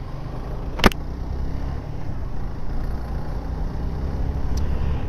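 Street traffic rumbles steadily, with cars, buses and a motorbike near a police checkpoint, and a sharp hiss like an air brake near the start.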